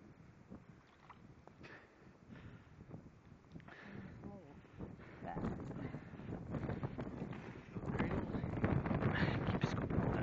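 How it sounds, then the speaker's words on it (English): Strong gusting wind in a blizzard with blowing snow out on the ice, roaring and buffeting the microphone, building louder toward the end, with faint voices underneath. "It's just gusting, blowing snow."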